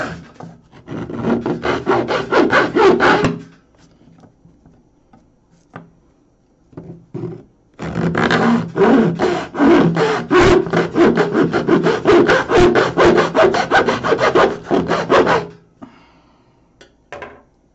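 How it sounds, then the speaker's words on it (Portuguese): A hand saw cuts through hard wood for a giant mandala frame, with close, loud, rapid rhythmic back-and-forth strokes in two long runs separated by a pause with a few light knocks. "Como se eu estivesse fatiando um pouco"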